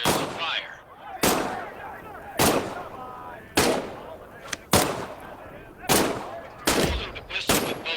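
Pistol shots in the VR game Medal of Honor: Above and Beyond, about seven sharp loud single reports spaced roughly a second apart, each with a short echoing tail.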